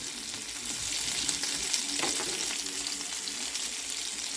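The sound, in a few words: country style potatoes frying in a pan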